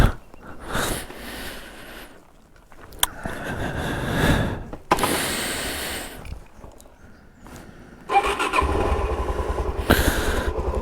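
A Suzuki DRZ 400 SM supermoto motorcycle revs and rides in bursts, the single-cylinder engine rising and falling with throttle blips and gaps, then settling into a steady, louder run near the end.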